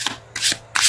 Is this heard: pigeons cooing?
no